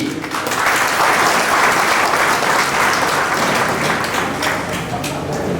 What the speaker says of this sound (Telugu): డబ్బులంటే చప్పట్లు కొట్టారు పాపం